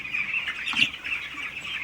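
Chickens on sand and raised slatted flooring, panting in hot weather, cluck and murmur in a steady flock chorus, with a slightly louder burst of clucking in the middle, moderately close.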